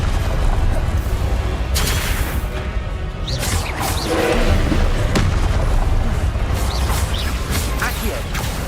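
Confringo fire spell explosions in the Hogwarts Legacy video game burst repeatedly as loud booms and crashes over dense combat effects, with a player's voice calling out spells throughout.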